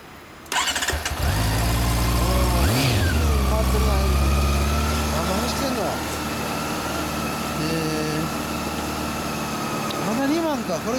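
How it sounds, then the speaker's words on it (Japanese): A 2009 Honda CB400 Super Four motorcycle engine starts and idles with a steady low rumble, rising in a few blips of revving. People talk nearby over it. "エンジン音聞かせてもらえる？"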